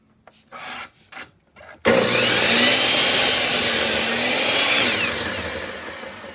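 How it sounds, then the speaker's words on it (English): A miter saw bites into wood for a birdhouse box with a sudden loud whine, preceded by a few short rough scraping rubs, then one long, steady, close cutting roar that slowly eases toward the end. "I'm gonna cut them with my regular saw. My miter."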